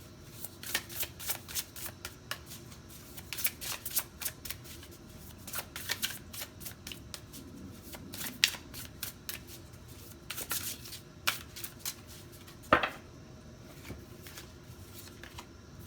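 A deck of tarot cards being shuffled by hand, with repeated quick riffles and soft slaps in irregular bursts, close and quiet, with no talking.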